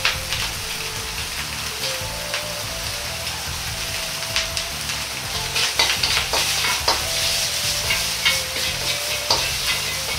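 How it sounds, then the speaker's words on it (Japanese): Loud, steady sizzling and crackling of garlic, ginger and chili bean paste stir-fried in a hot pan, with occasional scraping of the utensil, close up and continuous throughout. "にんにく、生姜、豆板醤を入れて炒めます。"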